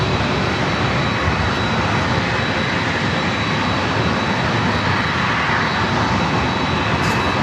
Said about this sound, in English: Is NetJets flight 361 coming in from SFO. So that's the citation.